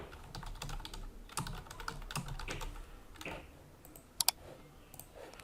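Clicky computer keyboard typing while composing a Discord embed message: a steady run of close, quick keystrokes with small pauses, ending in two sharper, louder clicks near the end.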